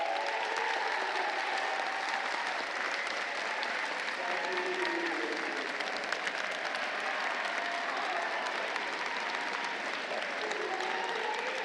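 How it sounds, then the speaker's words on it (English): A large arena crowd at a championship robotics tournament applauds the competing teams, sustained distant clapping and cheering that holds steady for over ten seconds, with faint voices beneath. "Let's hear it with a big round of applause for all the teams competing today."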